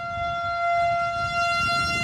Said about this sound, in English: The sirens are going off again.